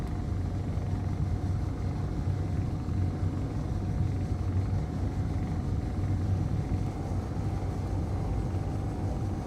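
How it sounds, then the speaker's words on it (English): A spacecraft thruster in a video game gives a steady, continuous low rumble with a faint constant hum above it, unchanging and alone throughout. "busting out that thruster"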